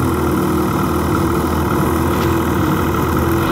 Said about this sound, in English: The next thing we need to do is we need to start up the sled.